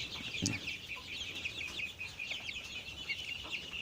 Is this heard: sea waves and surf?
no